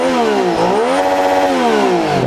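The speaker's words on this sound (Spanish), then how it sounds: "Suena hermoso, esos 3 cilindros no suenan ni como una moto de 2 cilindros como más embombado, ni tampoco como una moto de 4 cilindros" A Yamaha MT-09 Tracer three-cylinder motorcycle engine on its original exhaust revs loudly up and down in two or three smooth sweeps, close by, with no voices.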